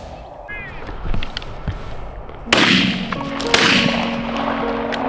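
Shotguns fire during a dove hunt in a field, two sharp loud blasts about a second apart, each ringing out briefly over quiet outdoor background.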